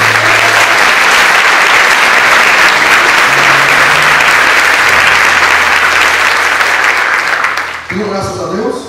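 Church congregation applauding during a Sunday worship service, a dense, steady wash of clapping from many hands lasting nearly the whole stretch, then fading out just before the end as the room settles.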